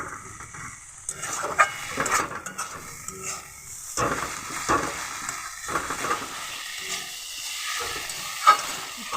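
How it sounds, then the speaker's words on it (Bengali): Dried fish and tomatoes fry together in a pan while being stirred, giving a quiet sizzle broken by irregular scrapes and clinks of a utensil against the pan, close up and without talking. "এই শুটকি মাছ এখানে দিয়ে দেবো, একটু নাড়াচাড়া করে নেব"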